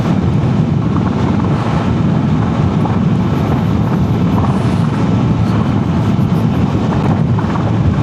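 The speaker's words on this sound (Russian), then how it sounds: "я на мотоцикле." Steady engine drone and heavy wind rush from riding a motorcycle, loud and continuous throughout with no pauses.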